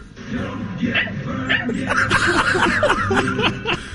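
A human voice imitates a small dog, giving a run of quick, high yips and barks mixed with snickering laughter, close and fairly loud throughout.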